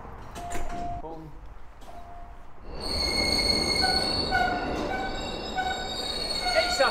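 A Glasgow Subway train runs loud and close, its wheels squealing in long sustained tones through the second half, with rumbling rail noise throughout and brief voices early on.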